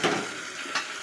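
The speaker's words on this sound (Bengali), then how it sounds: "আলুটা দিয়ে ভালো করে কষাবো যতক্ষণ না তেল ছাড়ে" Potato pieces sauté in hot oil in a pan, a soft steady sizzle with two faint scraping stirs, close and quiet, no talking.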